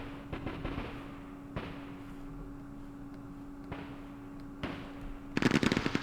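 Artillery fire in the Campaign Series Middle East wargame: a few sharp, isolated booms spaced seconds apart over a low steady hum, then a dense crackling burst of rapid shots at the end.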